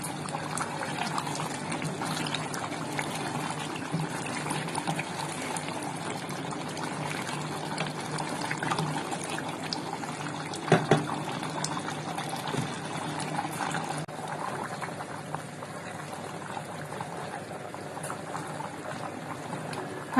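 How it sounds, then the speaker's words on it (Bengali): Water being poured into a pot of braised chicken to make gravy, a faint continuous liquid pouring and bubbling wash that runs throughout. "এখন ঝোলের পানি দিয়ে দিব।"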